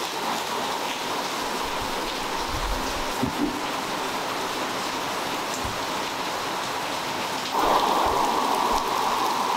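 Heavy rain pours down outdoors in a steady, close, continuous hiss, swelling a little louder near the end, with no voices.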